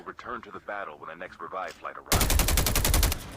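Rapid, dense bursts of video-game gunfire, sustained automatic shooting that takes over abruptly after a stretch of talking and stays loud to the end.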